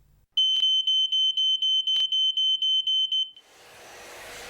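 An Ei 2110 multi-sensor smoke alarm sounds a rapid series of about twelve loud, piercing beeps in even rhythm, then stops, leaving faint background hiss.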